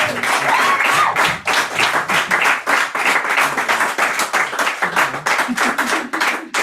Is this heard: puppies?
no